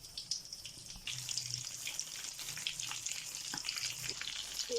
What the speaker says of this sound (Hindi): अंडे में डिप कर करके हम इसे ऑयल में फ्राई करते जा रहे हैं।